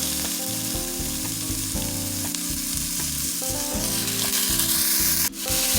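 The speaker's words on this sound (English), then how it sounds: "Now you can add in your green beans." Green beans hit a hot pan with a loud, steady sizzle and crackle of frying that runs throughout, along with faint stirring.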